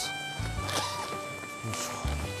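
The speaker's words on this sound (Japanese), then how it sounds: "後ろ側にもファスナーがあるので、これを開けちゃいます。" A zipper on the back of a rugged solo camping tent is pulled open in a few short, close rasping strokes, with a low voice murmuring in the background.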